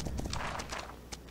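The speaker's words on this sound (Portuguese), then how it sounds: "Caraca, olha esse cavalo." Horse hooves clip-clopping in the Roblox game Horse Life, a quick run of light, fairly faint hoofbeats in an irregular rhythm.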